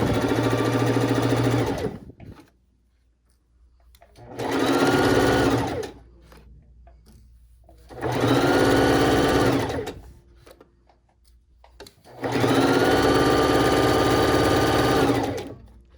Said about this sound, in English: Push down and stitch off the edge.